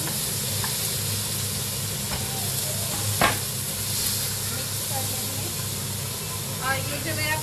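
Onions frying in a pan until crisp and brown, a steady close sizzle and hiss throughout with a few faint clinks of stirring, one sharp tap near the middle; no one speaks.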